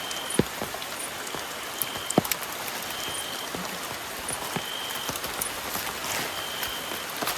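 Heavy rain falls at night during a crab hunt near Mangalore, a steady broadband wash of drops pattering on surfaces with a few sharper close splashes and knocks, no talking.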